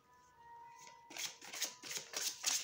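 Matte-finish Cats Oracle cards by Barbara Moore being shuffled by hand, a soft papery riffle that starts faint then turns into a run of crisp, close, rhythmic bursts.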